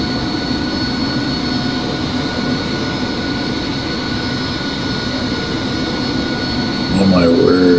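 Jet aircraft engine roar from a DCS combat flight simulator during a runway takeoff, a loud steady broadband rush with tonal whine that swells near the end, with radio-style talk over it.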